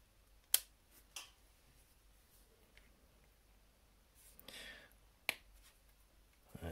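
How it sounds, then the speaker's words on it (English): Hobby clippers snipping a plastic miniature part off its sprue, heard as a couple of sharp, close clicks with quiet pauses between, then a soft rustle and another crisp snip. "You want the flat side of the clippers to go against the part you're cutting."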